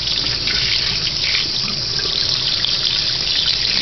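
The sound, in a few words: running water for rinsing fish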